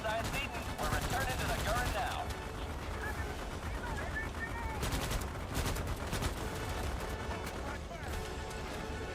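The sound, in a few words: gunfire from unlimited-ammo weapons in video game Starship Troopers: Extermination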